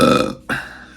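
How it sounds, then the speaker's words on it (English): A man lets out a single loud, close burp after tasting British ale, a long guttural belch with a brief break in the middle before it trails off. "I'm gonna burp"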